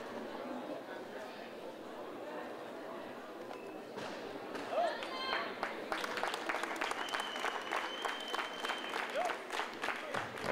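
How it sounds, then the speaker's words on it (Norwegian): Spectators at a competition clap for an athlete after her first round. The sparse applause builds partway through and continues under a commentator's voice, with some scattered knocks and other background noises. "Får velfortjent applaus etter første runde."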